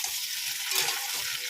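Potatoes and pointed gourd sizzle in a hot pan in a home kitchen, a steady bright crackle of frying oil with small pops and faint stirring clinks, close and alone without talk.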